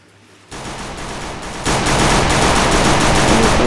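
Gunfire from the mobile battle game Free Fire, a dense sustained burst of automatic shots that grows louder after a short quiet start and keeps rattling steadily to the end, with no voices.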